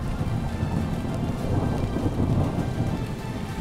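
Heavy, steady rain pours continuously during Kenya's long rainy season, with a deep rumble of thunder rolling underneath. The downpour sounds close and loud throughout.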